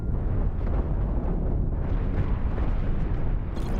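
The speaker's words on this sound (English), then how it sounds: "The cannons are still firing at us, as you can see." Cannons fire at a ship in the space-ship battle game Cosmoteer, a dense, rumbling barrage of booming blasts rolling on without pause and heard alone.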